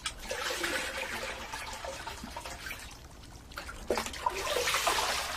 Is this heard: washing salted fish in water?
yes